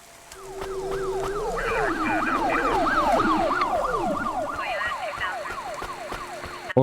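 Police car siren in the Cloudpunk video game, a rising-and-falling wail repeating rapidly and loudly, sweeping up and down many times, with a second higher siren tone joining partway through over a low vehicle hum.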